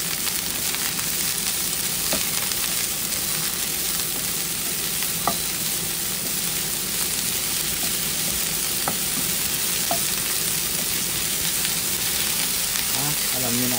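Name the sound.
broccoli frying and being stirred in a pan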